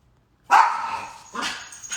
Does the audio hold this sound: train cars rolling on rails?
no